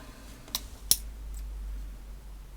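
Two quick, crisp snips of scissors cutting through craft material, close and isolated against a quiet room, the second cut sharper than the first.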